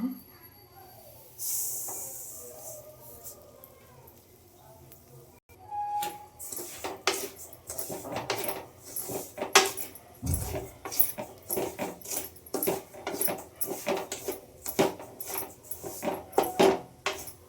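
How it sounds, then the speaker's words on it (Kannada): Semolina roasting in oil in a kadai: a soft hiss at first, then a run of scraping and clinking strokes as the rava is stirred around the pan, with faint talk in the background. "ನಾನು ಎಣ್ಣೆ ಹಾಕ್ತೀನಿ, ಹಾಕಿ ಒಂದು ಸ್ವಲ್ಪ ಹುರ್ಕೊಂತೀನಿ ರವೆನ"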